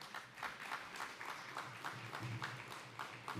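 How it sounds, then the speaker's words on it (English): Audience applause at an Indigenous clean energy forum, steady moderate clapping from a seated crowd, somewhat distant and even throughout. "again, round of applause for them."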